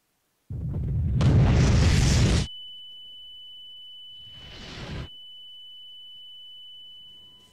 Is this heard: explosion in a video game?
yes